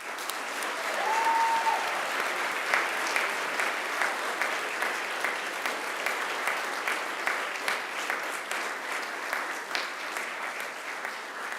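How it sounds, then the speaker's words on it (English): Graduates at a Macquarie University graduation ceremony turn to face their families and friends and give a big round of applause, a steady crowd clapping that stays loud and even from start to finish with no talking over it. "give them one very big round of applause"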